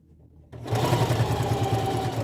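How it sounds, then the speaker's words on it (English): A sewing machine stitches a zipper onto a corset, starting after a quiet half second and running steadily and loudly with a fast, even mechanical whir close by. "And you'll sew all the way down."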